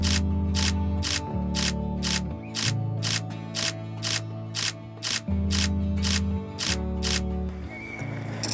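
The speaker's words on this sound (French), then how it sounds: "Donc là j'utilise uniquement la rafale, pas besoin de pré-rafale." Rapid burst of camera shutter clicks in a steady high-speed rhythm, close and loud over a low background hum, fired trackside at a French mountain-bike cup race.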